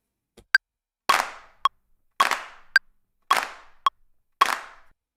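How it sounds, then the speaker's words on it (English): Crisp clap samples hit in a regular, evenly spaced pattern within a music beat, each one sharp and dry with a short decaying tail, alternating with tighter, shorter percussive clicks. "So got these claps here."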